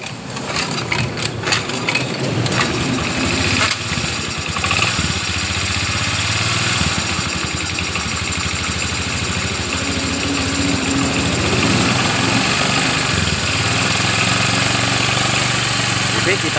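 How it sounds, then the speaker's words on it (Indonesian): A Honda BEAT scooter with a flooding, hard-starting fault cranks with rough sputtering, then settles into a steady close idle hum that runs on; a voice talks briefly over it. "Oke, kita hidupkan motornya"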